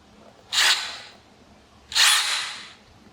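An electric power drill, the kind used for drilling wood or metal and driving screws, gives two short, loud bursts about a second and a half apart. Quiet room noise fills the gaps, and no one speaks.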